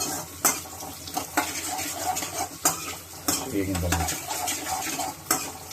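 Capsicum fries with onions in ghee in a pan while a spoon stirs, bringing a steady sizzle broken by repeated metallic scrapes and clanks against the pan, with no speech.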